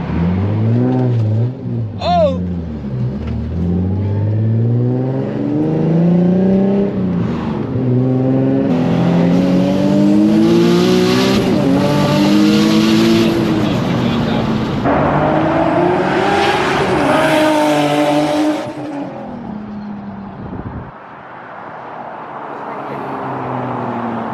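A turbocharged Nissan 350Z engine revs hard through rising gear pulls, whining and roaring up close, then eases off near the end.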